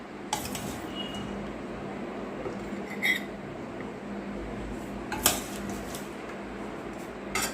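Hilsa fish curry with eggplant and potato is served onto a plate with a handful of light clinks of a utensil on the dish, spaced apart over a steady background hum.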